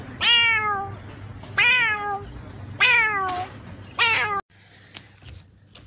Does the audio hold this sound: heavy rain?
no